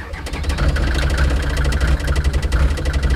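Engine of a supply and evacuation vehicle catching and settling into a loud, rough, vibrating idle with a steady pulsing chug throughout.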